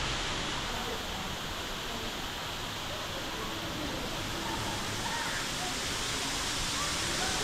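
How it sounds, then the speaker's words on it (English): Steady broadband rushing of falling water, a constant roar without breaks, loud and enveloping. "Definitely a nice little scenic waterfall to look at right off the road."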